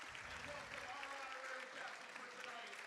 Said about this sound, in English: Luke Gordon drawing a thunderous applause for his tribute to Nick Gasper.